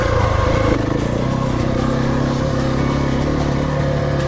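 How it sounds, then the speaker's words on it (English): A KTM 690 motorcycle climbs a steep track in the Victorian High Country. Its engine drones loud and close throughout, with a strong low rumble and a slight shift in pitch early on. No talking. "When you're on a KTM 690, you just can't pick a bad track in the Victorian High Country."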